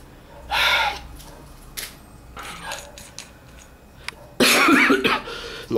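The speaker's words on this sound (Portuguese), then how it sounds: "quando começa a tossir não é legal" A few harsh coughs, one short burst early and a louder, longer fit near the end, with quieter rustling and shuffling sounds in between.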